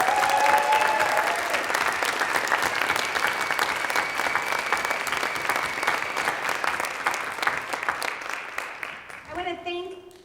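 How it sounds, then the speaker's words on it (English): Applause from a school show audience fills the room with dense, steady clapping for about nine seconds before it fades out. A speaker's voice follows briefly at the very end. "Can we give them a round of applause?"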